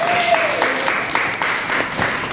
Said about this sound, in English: worth an applause